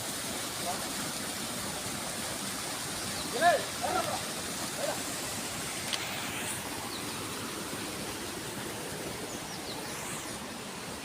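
A small waterfall near a temple in Pannaikadu village gives a steady broadband rush of falling water throughout, with someone talking briefly over it.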